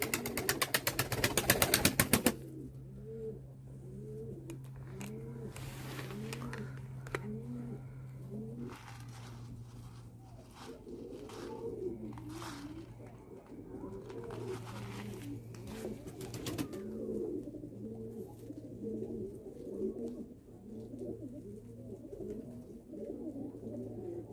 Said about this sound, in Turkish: Gerçekten güvercinlerimiz çok güzel arkadaşlar